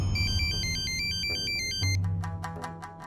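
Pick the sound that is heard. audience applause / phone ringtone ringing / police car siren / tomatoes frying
phone ringtone ringing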